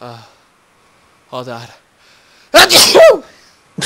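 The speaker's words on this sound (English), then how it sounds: "Sneezing during a let's play or something?" A loud, close sneeze bursts out mid-clip, with someone talking briefly before it during a DayZ gaming session.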